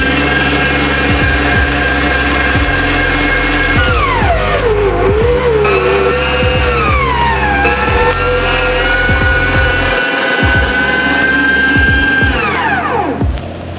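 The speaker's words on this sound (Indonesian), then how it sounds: "Jadi selain bisa menggiling daging, mesin ini juga bisa untuk digunakan menggiling kacang." An electric meat grinder grinds chicken and shrimp for siomay with a loud, continuous motor whine that sags and recovers in pitch as it takes the load, and no one speaks.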